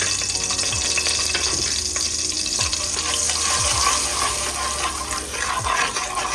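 Curry powder frying in vegetable oil in a pot for Jamaican chicken curry, a loud continuous sizzle with occasional scraping stirs, close up and with no talking.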